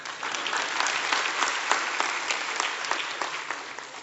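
Audience applause at a speaking event, steady dense clapping from a crowd throughout, moderately loud and continuous with no voices on top.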